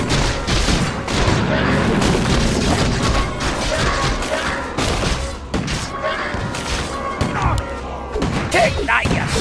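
Dwarven Sniper firing his gun in Dota 1 gameplay, repeated sharp gunshots and impacts over a busy battle din, dense and loud throughout, with character voice lines heard amid the fighting.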